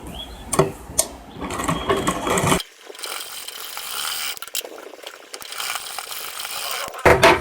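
A sewing machine stitches tucks, also called pleats, into the back panel of a princess-cut lehenga blouse, giving a steady mechanical whir with sharp clicks and ratcheting bursts near the start and end.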